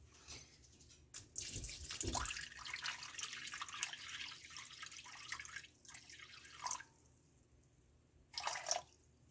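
A steady stream of 410 grams of water pours and splashes into a bowl for sourdough focaccia, running continuously for several seconds with a couple of brief louder bursts near the end.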